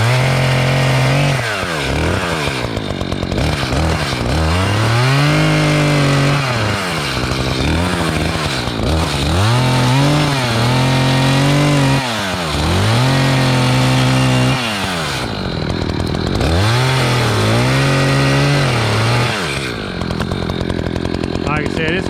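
A chainsaw cuts protruding knobs from the base of a dead tree, its engine loud and close, repeatedly revving up and bogging into the wood, then easing back between cuts for about twenty seconds.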